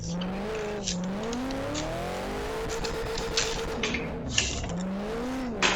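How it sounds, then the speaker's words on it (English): A four-door Nissan Skyline R32 in a racing game mod revving hard into a handbrake drift entry, engine pitch rising and falling with brief tire squeals, no talk. "See if we can just do a big handbrake entry."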